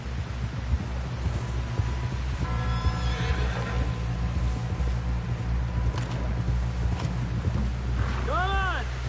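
A horse in a video game whinnies clearly near the end, over a steady rumble of game ambience with scattered clatter and hoofbeats.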